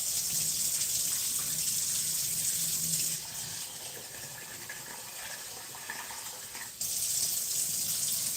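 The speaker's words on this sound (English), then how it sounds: "If you like it sticky rice, don't rinse it so much." A kitchen tap runs steadily while rice is rinsed. The water gushes as a constant broadband rush, and its tone shifts briefly midway as the flow or the pot changes. It is close and alone.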